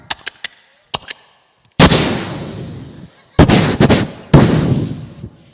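Pistol gunshots crack out: a few sharp distant pops first, then three loud, close blasts, each ringing with a noisy reverberant tail.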